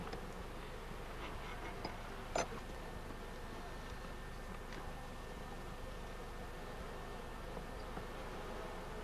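Honey bees at an opened beehive during winter preparation make a faint, steady hum against a quiet outdoor background, with one brief sharp tap near the middle.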